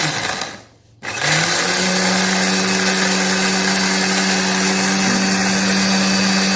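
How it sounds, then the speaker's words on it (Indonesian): Electric blender grinding cloves for homemade clove soap, switching on after a brief pause and settling into a loud, steady high-pitched motor whine that runs continuously. "Kita blender lagi."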